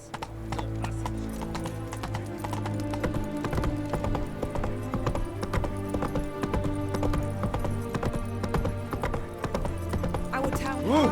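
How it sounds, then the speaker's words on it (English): Horse hooves clip-clop steadily in The Witcher 3 video game, a continuous rhythmic trot heard clearly over game music with a brief whinny near the end. "Whoa there, Roach."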